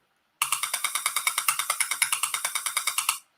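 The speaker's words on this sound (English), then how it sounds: "a Wi-Fi base station" Wi-Fi base station radio emissions made audible through an RF meter: a rapid, regular train of sharp clicking pulses, about eight per second, steady and fairly faint, with no talking.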